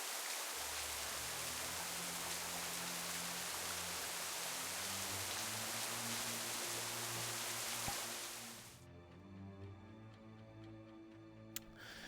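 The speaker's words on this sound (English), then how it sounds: "Sorry, the rain was really loud." Loud, dense rain hisses steadily in a VRChat game world, then cuts off abruptly near the end, leaving a faint low hum.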